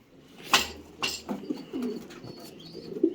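Pigeons coo inside a coop, a few soft, low, throaty calls rising and falling close by, mixed with brief rustles and wing flutters.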